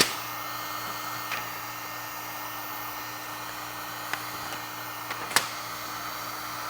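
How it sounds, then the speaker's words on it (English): A heat gun blows hot air while protection film is removed from a windshield. It makes a steady close whoosh with a few faint clicks and taps. "you can have someone hold the heat gun while you pull or vice versa"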